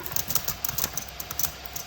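A computer mouse and keys click rapidly during a video game session, a steady irregular patter of light taps close to the microphone, with no talking.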